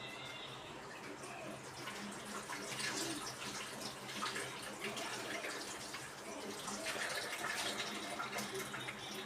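Corn kernels are washed under running water: a steady, faint gush of flowing water continues throughout with slight swells, close by.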